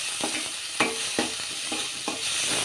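A spoon stirs paneer masala curry in a pan over a steady sizzle. Scraping strokes come in an irregular rhythm, close and fairly loud, and no one speaks.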